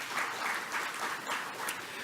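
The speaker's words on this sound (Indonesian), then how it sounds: "tepuk tangan semuanya" An audience at an Indonesian economic forum on Islamic finance claps steadily for about two seconds, a dense, moderately loud burst of hand claps in a hall.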